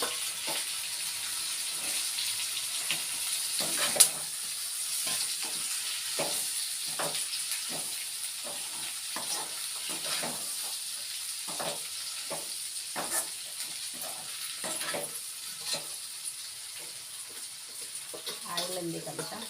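Deep-fried okra sizzling in hot oil in a pan gives a steady bright hiss, broken by repeated soft scraping and stirring knocks over about twenty seconds.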